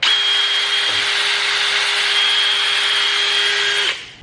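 A power drill spins a Scotch-Brite pad on an R32 Skyline bolt, whirring at a steady high pitch for several seconds with a rubbing, scouring hiss, then winds down and stops.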